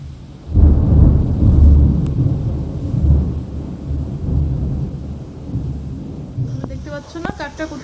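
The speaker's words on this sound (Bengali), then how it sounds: "বৃষ্টি আসতেছে, ঘরের ভিতরে ভিজে যাচ্ছে।" Heavy rain and storm rumble pour down loudly and continuously, with a deep roar throughout and a voice emerging briefly near the end.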